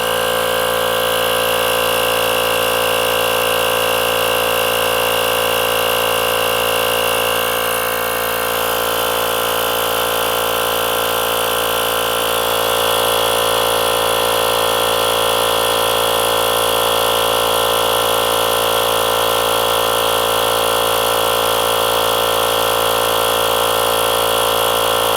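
A locking air chuck on a tire hisses steadily as the trigger is held to inflate it toward 40 psi, a loud continuous rush with a brief dip partway through and no talking.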